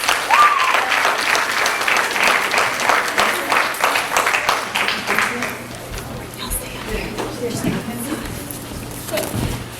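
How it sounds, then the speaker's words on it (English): Audience applause at a middle school recitation and drama competition, loud and dense at first, then thinning and tapering off after a few seconds, with scattered voices and crowd murmur underneath. "Let's give them a round of applause, please."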